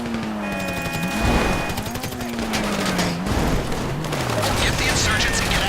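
Sustained gunfire from a vehicle weapons test in a Grand Theft Auto style game, dense rapid shots and crashes running the whole time under a low engine drone and occasional voices.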